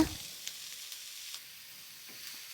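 Onions in coconut oil give a faint, low sizzle in a pan, with a few light taps and scrapes from gentle stirring near the start and scattered through.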